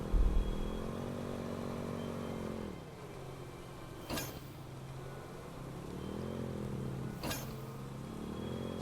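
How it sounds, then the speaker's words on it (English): A motorcycle ridden in the video game Code Vein 2 rises and falls in pitch as it accelerates and eases off, with two sharp bangs breaking through the continuous engine note. "I think I might like this motorcycle."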